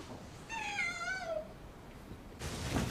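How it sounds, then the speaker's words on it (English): A tortoiseshell cat gives one drawn-out, wavering meow, clear and moderately close against a quiet room, followed by a brief burst of noise. "Tortoiseshell cat."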